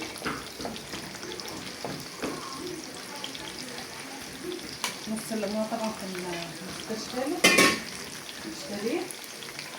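Okra frying and sizzling in a pan, with a steady crackle and occasional stirring and clinks of utensils; someone talks over the cooking.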